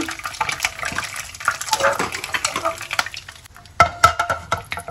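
Ingredients for sambal goreng being stirred and tossed in a pan, with scraping and clattering over a light sizzle of oil, close and fairly loud.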